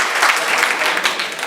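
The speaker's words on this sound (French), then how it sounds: "vous pouvez les applaudir bien fort pour les remercier de l'engagement qu'ils ont envers le chapter" Audience applause at the 30th-anniversary celebration of the Reims Champagne Chapter, a steady, loud crowd clapping that fills the whole moment without a break.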